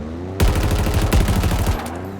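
Marines in Halo Infinite open up with rapid automatic gunfire, a dense, loud burst of overlapping shots that starts abruptly and rattles for about a second and a half before cutting off.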